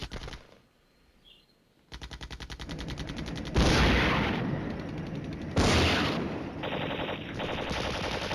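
Rapid bursts of gunfire from Soviet units in the wargame Flashpoint Campaigns, rattling machine-gun fire after a brief quiet, then loud crashing volleys and sustained firing that keeps going to the end, with no talk.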